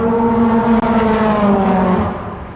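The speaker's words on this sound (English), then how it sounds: "Really fast Caterham that is." A fast Caterham race car at a Dijon-Prenois trackday roars past close by. Its loud, buzzing engine note holds steady, then drops away and fades as the car moves off.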